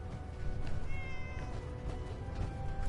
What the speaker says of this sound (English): Is there a cat?